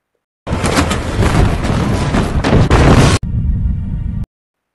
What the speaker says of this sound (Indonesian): Nam sempat menarik pemicu ranjau hingga semua ranjau meledak